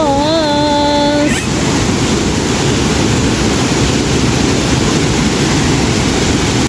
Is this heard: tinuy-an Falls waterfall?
yes